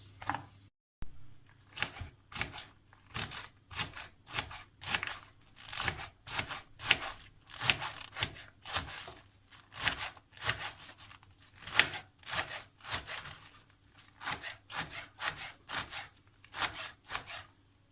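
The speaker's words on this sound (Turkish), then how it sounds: "Öncelikle pazı yapraklarını ince ince doğruyoruz." A knife finely chops Swiss chard leaves on a board in a home kitchen, striking in a steady, fast rhythm of crisp, close cuts that go on without pause and without talk.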